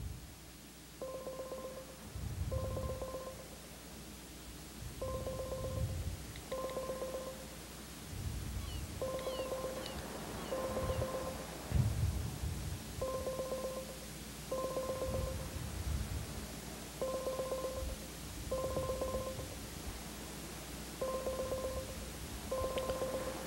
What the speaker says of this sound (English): this is calling Freddie the producer right now